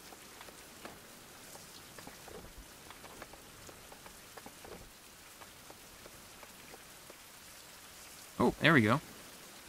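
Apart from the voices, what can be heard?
rain falling in a survival video game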